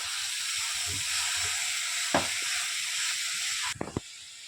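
Grated coconut and jaggery sizzling in a pan for modak filling, a steady frying hiss with soft scraping stirs and a couple of sharper spoon knocks against the pan near the end.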